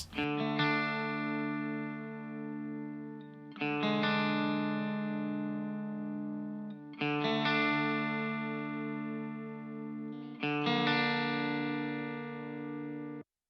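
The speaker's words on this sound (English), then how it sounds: "So I'll solo up this guitar part, which is just a clean guitar part" Four ringing electric guitar chords, each strummed and left to sustain and fade before the next, played with a clean, dry tone.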